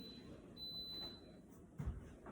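A faint, steady high-pitched electronic beep from a rice cooker, sustained for about a second, then a soft thump in a quiet room.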